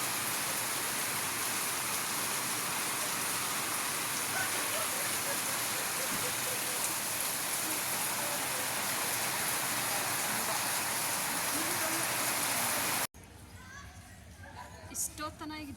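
A loud, unbroken rush of heavy rain falls across green surroundings at a Dandeli resort in Karnataka for most of the stretch, then cuts off abruptly to a quieter scene with a voice near the end.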